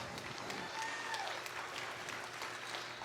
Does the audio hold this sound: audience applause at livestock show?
yes